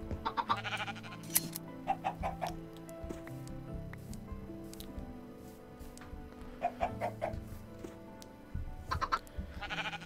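Blocky sheep in Minecraft bleat in short repeated bursts, clustered near the start, middle and end, over a steady bed of background game music and ambient tones.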